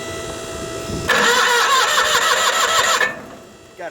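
A sawmill's motor cranks over and catches, then runs with a loud, rough mechanical clatter close by for about two seconds before dropping away.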